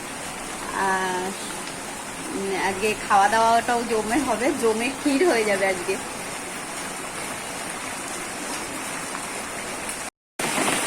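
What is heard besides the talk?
rain falling outside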